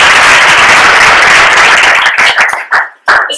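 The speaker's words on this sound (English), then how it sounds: "Round of applause for Sean." An audience at a data awards event applauds a finalist with a burst of loud, dense clapping that thins into scattered individual claps as it fades out after a few seconds.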